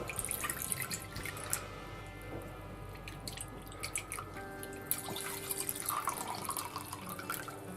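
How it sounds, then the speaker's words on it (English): Water drips and trickles as it drains from sprouting jars in a quiet kitchen, a faint irregular run of small splashes and drops with a gentle continuous pour underneath. "we're just going to empty the water from the jars"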